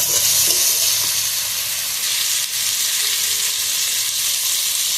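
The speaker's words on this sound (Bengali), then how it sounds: "ভালোভাবে আলু টমেটা কষে নিয়েছি একদম লাল লাল করে সব ভেজে নিয়ে" Potatoes, tomatoes and spices frying hard in a pan for a fish-and-eggplant curry, a steady loud broadband sizzle with faint stirring clicks, close and continuous with no talk.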